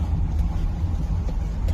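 A car passes close by on a road, its mid-pitched engine droning steadily and loudly for the whole stretch before cutting off abruptly at the end.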